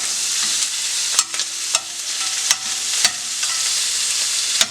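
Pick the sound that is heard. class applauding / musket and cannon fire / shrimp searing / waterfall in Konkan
shrimp searing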